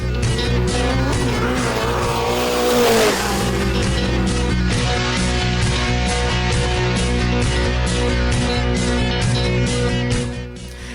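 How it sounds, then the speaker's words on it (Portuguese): A drag race car with a Big Block 572 engine burns its tyres on asphalt, a loud sustained engine roar with squealing rubber swelling around the middle, then a steady high rev until it drops off at the end. "Muita fumaça e pneus queimando no asfalto."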